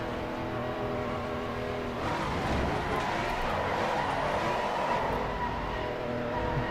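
Race car engine in Assetto Corsa Competizione at Kyalami, driven with traction control off, a continuous droning roar that rises and swells mid-way as the car revs, steady and close throughout.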